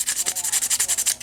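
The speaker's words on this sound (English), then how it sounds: "Nice sanding block with a little bit of a rubber handle" Rapid back-and-forth scrubbing of a sanding block with a grippy rubber handle, about a dozen quick rhythmic strokes in a row, close and crisp with no talking.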